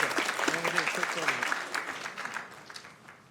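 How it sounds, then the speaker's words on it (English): A crowd claps in a dense burst of applause that gradually thins and fades, with a voice briefly speaking at the start. "let's give a big round of applause"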